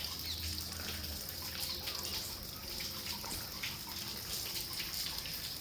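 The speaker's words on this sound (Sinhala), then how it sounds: "බලන්න යාළුවනේ මෙතනට වතුර එනවා." Water from the Tissa Wewa reservoir flowing and trickling into a channel, a steady, moderately soft rush with faint drips, with no voices.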